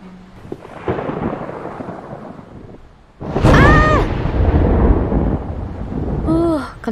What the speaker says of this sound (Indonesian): Tapi ada petir sama angin kenceng.